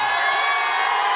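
A crowd at a college campus event cheers and shouts in a dense, continuous roar with no breaks, loud and close for just over a second.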